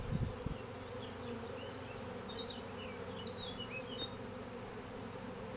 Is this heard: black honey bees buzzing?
yes